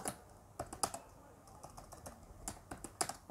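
Computer keyboard typing during a Java coding session: a handful of sharp, separate keystrokes spaced irregularly, close and fairly quiet against a low room hiss.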